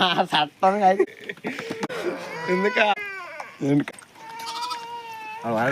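A pregnant sheep bleats loudly and close up in a string of wavering calls, with a voice talking between them.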